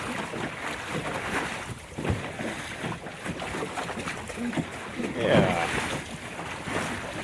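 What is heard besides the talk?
small sailboat in choppy water with light wind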